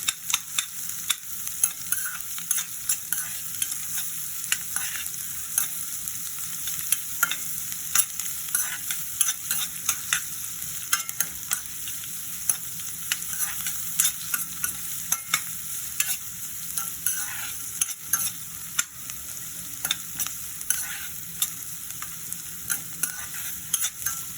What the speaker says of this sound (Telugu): కట్ చేసుకున్న పచ్చిమిరపకాయలు కూడా వేసుకొని బాగా కలపాలి. ఉల్లిపాయ గోల్డెన్ బ్రౌన్ వచ్చిన వరకు కలుపుతూ ఉండాలి.